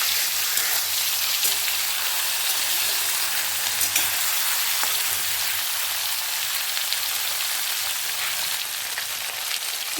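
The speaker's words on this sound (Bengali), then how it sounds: "মাছগুলোকে আমি হালকাভাবে এপিট ওপিট করে ভেজে নেব।" Small tin kata fish sizzle in hot oil in a pan, producing a steady, close, rain-like crackle with scattered pops that carries on evenly for the whole stretch, with no talking.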